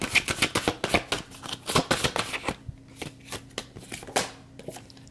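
A tarot deck being shuffled and a card drawn, close rapid riffling and flicking of cards in quick bursts that thin into sparser taps, with a low steady hum behind.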